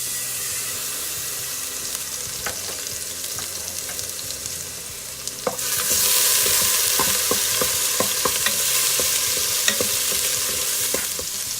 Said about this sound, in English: I'm going to add some olive oil. And a tablespoon of garlic.